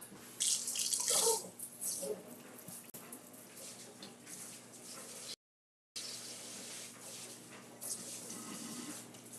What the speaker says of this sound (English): Let me give it one more rinse.